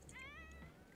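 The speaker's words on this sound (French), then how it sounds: "Et il y a les chats qui crient." Cats meowing and crying in The Sims 4, a rising, wavering feline call that carries over a low steady game background for about a second.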